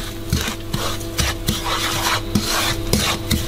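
Breadcrumbs poured into a pan and stirred while frying, a close dry scraping and rasping with irregular scratchy strokes, no talking.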